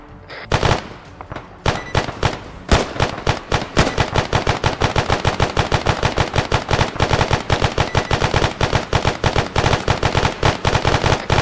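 Light machine gun in a video game firing long sustained automatic bursts, rapid loud evenly spaced shots running nearly nonstop, with a few brief gaps early on.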